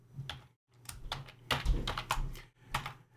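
Computer keyboard typing in short irregular bursts of close, crisp keystrokes with brief pauses, as a name is entered for a new security domain.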